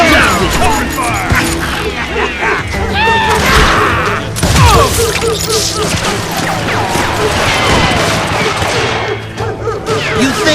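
Dense gunfire fusillade in the Western shooter Call of Juarez: Gunslinger, loud and continuous with crashes and impacts, layered under shouted game dialogue.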